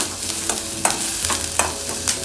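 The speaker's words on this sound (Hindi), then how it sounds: "हल्का सी फ्राई होने देते हैं, हल्का कलर चेंज हो जाए जब तक हम फ्राई करेंगे" Vegetables for a hot and sour vegetable soup frying in a pan, a steady sizzle broken by several scraping stirs at a regular pace, close and fairly loud, with no talking.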